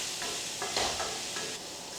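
Steady sizzling and hissing of prawns stir-frying in a hot pan, with faint stirring scrapes, close and continuous with no talking.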